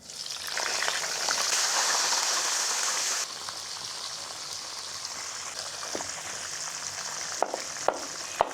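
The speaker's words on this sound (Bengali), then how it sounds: "আলু এবং গাজর মোটামুটি সিক্সটি পার্সেন্টের উপর ফ্রাই হয়ে গিয়েছে তারপর ফুলকপিগুলো দিয়ে দিচ্ছি" Potato and carrot pieces sizzle in a pan of hot oil, a loud close hiss that drops to a softer steady frying after a few seconds, with a few light clinks near the end.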